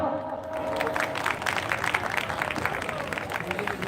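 A crowd bursts into loud, dense clapping at a live stage programme at the Punni Mela fair in Rajnandgaon: a continuous patter of many hands that holds steady for a few seconds.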